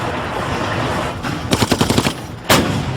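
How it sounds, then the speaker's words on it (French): A German MG-34 machine gun fires in a wartime battle, a tight, rapid burst of about eight sharp shots followed by a single loud crack, heard close and alone without talk. "Les hommes de Burroughs sont toujours bloqués par la MG-34"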